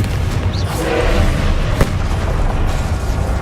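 Confringo, an explosive fire spell in the Hogwarts Legacy video game, booms against a steady rumbling bed, with one sharp, loud crack standing out midway and no voices.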